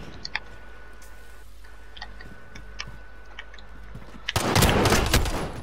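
Pistol fire in a video game breaks out as a sudden loud burst of rapid shots near the end, after a stretch of faint ticking clicks and low background hum.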